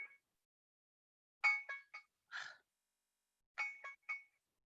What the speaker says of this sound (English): Alarm, I don't see it. I can't find it.